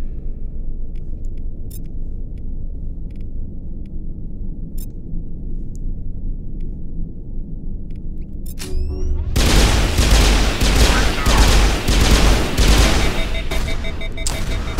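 Gunfire from a gun in the video game Mass Effect Legendary Edition, a dense, loud burst of rapid shots that erupts after a stretch of low, quiet rumble and keeps going to the end.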